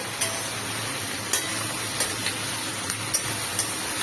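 Chilli paneer with onion and capsicum being stirred in a wok, a steady sizzling hiss broken by soft, irregular scraping strokes of the spatula, close by with no talk.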